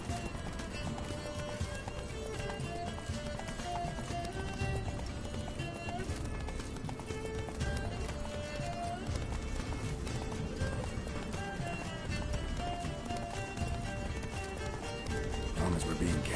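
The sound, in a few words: Roach the horse galloping, from a video game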